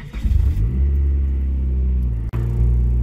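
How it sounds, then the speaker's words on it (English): A Mitsubishi Eclipse with a turbocharged 420a engine and no-cat exhaust, running Megasquirt, cranks with quick pulsing turns, catches and settles into a loud, deep rumbling idle, with one brief dropout near the end. "inside the car, I just want to start it up and I'll just show you guys how it runs"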